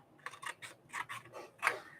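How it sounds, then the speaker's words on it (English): Small detail scissors snip through a big piece of paper for a handmade journal, about eight crisp close cuts in a quick irregular rhythm with no talking. "Trying to cut a big piece of paper with detail scissors is probably not my best."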